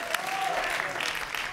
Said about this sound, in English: Give him a round of applause, folks.